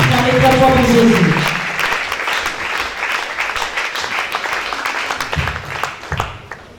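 Applause and cheering from a church congregation, starting loud over a sung or sustained voice and thinning into scattered clapping and crowd noise toward the end.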